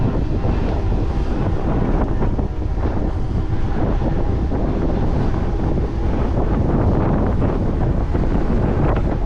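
Strong headwind buffeting the microphone in a loud, constant roar while riding along the Crimean coast, with rushing water beneath and no voices.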